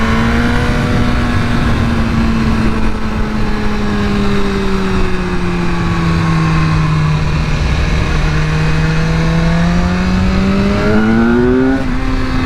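A 2016 BMW S1000R motorcycle engine, ECU-flash tuned by BT Moto, hums steadily with a loud, continuous tone whose pitch dips and rises as the throttle is eased on, climbing sharply near the end.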